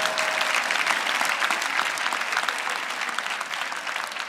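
Comedy show audience clapping steadily, a dense, even wash of applause sustained throughout, close and full.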